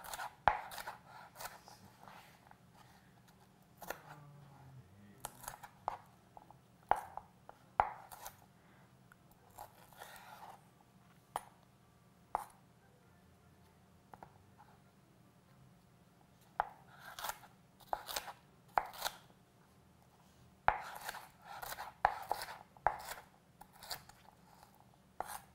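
A knife dices food into large chunks on a cutting board, making sharp, crisp chops that come in quick bursts separated by pauses, close and clear against a quiet kitchen.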